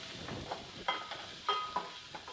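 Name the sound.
ground spices frying in pan on medium-low heat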